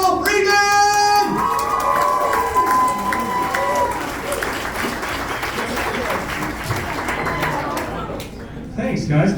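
A comedy club audience applauds and whoops for a comedian, sustained loud clapping with cheers over it while a host's amplified voice speaks above the crowd.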